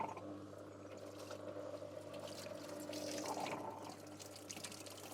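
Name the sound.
water draining from off-grid laundry rinse tub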